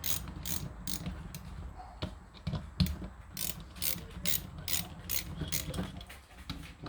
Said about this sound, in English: torque it to 14 foot-pounds, all the bolts